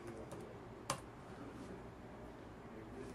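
A few keystrokes typed into a command console on a computer keyboard, faint light clicks with one sharper tap near the start, close by over a low room hum.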